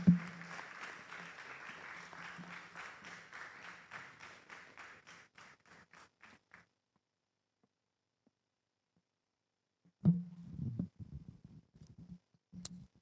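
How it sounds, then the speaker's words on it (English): An audience applauds warmly at the end of a presentation at the launch of the 2024 PIAC Annual Report. The steady clapping thins and stops after about six seconds, then a short silence gives way to brief talk and scattered sounds. "Another round of applause for"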